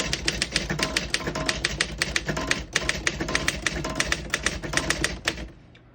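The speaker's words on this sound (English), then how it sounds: "We're going to keep it on single for now and type a sentence on the next line." A sentence typed on a 1963 Royal MCE desktop typewriter: a loud, close, steady run of sharp mechanical key strikes, roughly four to five per second, over a faint machine hum, ending abruptly in silence.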